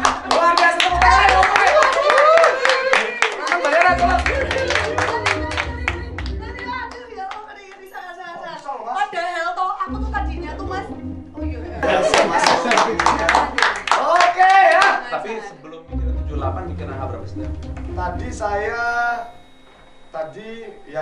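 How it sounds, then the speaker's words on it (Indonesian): Rhythmic group clapping in two bursts, with low thumping beats underneath and voices calling out between them. "Luar biasa, tepuk tangan."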